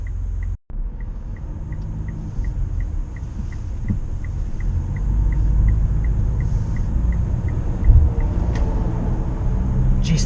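A Mitsubishi Outlander diesel accelerates slowly onto a highway, heard from inside the cabin as a steady, moderately loud engine and road rumble that swells gradually, with a faint regular ticking throughout.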